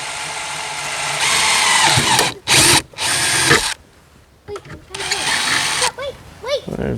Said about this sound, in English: You think your mom would be upset if she saw me drilling into the Jeep?